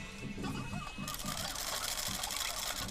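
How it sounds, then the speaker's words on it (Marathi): Close by, a sewing machine stitches a sleeve in a steady mechanical whir, and its pitch shifts partway through. "त्यावरती शिलाई मारून घ्यायची आहे"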